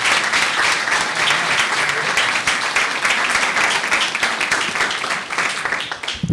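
An audience at a legislative ceremony honoring scholarship recipients gives a sustained round of applause for a foundation representative, a dense even wash of many hands clapping that continues throughout.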